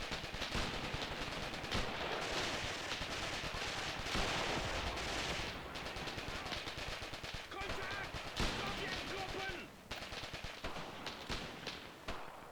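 Gunfire rattles through a tank battle on the Mius Front in Graviteam Tactics, with a Luger or P-38 pistol firing among the constant dense bursts of machine guns and artillery that fill a loud, unbroken wall of combat noise.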